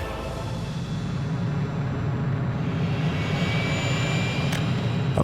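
A large airplane in the Workers & Resources: Soviet Republic game drones with a steady, continuous jet engine roar, close and fairly loud, with no talking.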